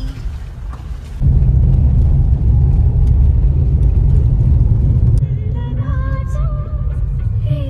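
A vehicle engine starts up and settles into a loud steady rumble, continuing as the car pulls away, with voices talking over it toward the end.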